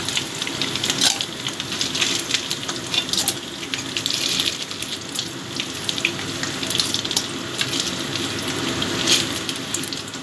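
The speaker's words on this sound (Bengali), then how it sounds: "শুটকিগুলো ভাজা হয়ে গেছে ভালো মতো এবার আমি শুটকিগুলোকে তুলে নিচ্ছি" Dried fish frying in oil in a home kitchen, a continuous fine crackling sizzle with scattered sharper pops, moderately close and steady throughout with no voices.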